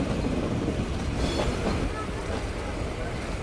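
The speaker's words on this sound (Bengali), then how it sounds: "আর আমাদের ট্রেনটি খুলনা রেলওয়ে স্টেশনের 3 নম্বর প্ল্যাটফর্মে ইতিমধ্যে অ্যারাইভড হয়েছে" Sundarban Express rolling into Khulna railway station's platform heard from the train's rear end, a steady, loud rumble of coaches with faint rail squeal and no pauses.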